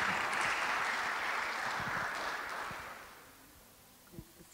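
Audience applause at a conference talk, dense steady clapping that fades out over a few seconds, leaving a quiet room with a faint thump near the end.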